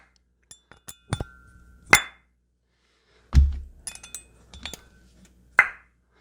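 Close metallic clinks and knocks come as tight valve guides are worked on a Suzuki Vinson ATV cylinder head during a rebuild, with scattered taps and a few louder bangs and no voices.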